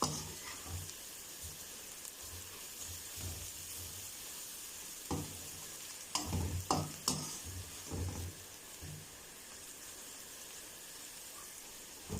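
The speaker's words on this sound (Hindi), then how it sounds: "ये डालेंगे तो थोड़ी देर के लिए मसालों को भूनेंगे ताकि मिर्चों का कच्चापन जो है ख़त्म हो जाए।" Spices and chillies frying in a pan for a potato and okra curry make a quiet, continuous sizzle. Scattered stirring scrapes come through, with a cluster of louder clatters near the middle.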